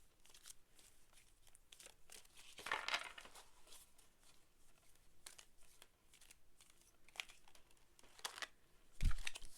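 Tarot cards shuffled by hand, soft irregular riffling and crinkling bursts, quiet and close, with a sharper knock near the end.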